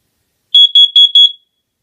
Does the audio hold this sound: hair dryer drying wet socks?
no